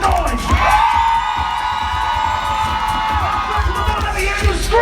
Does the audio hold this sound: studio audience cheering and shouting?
yes